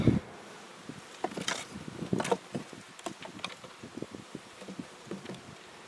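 Honey bees in a hive in cold weather buzz faintly amid scattered close rustles and patters as the hive is opened, with no voices.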